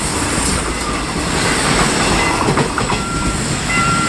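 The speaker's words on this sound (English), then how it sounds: "It's a passenger train." A short passenger train coming from Daegu rolls past close by, a loud, steady rumble of wheels and rail noise with faint clatter that lasts throughout, no voices.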